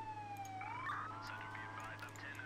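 A wailing ambulance siren from the Emergency 4 LA Mod video game rises and sweeps in pitch, moderately loud over a low steady hum.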